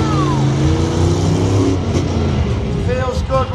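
A monster truck at a show in Wolverhampton drives in at speed, its loud engine roaring and revving with rising pitch, under a commentator's voice on the public address.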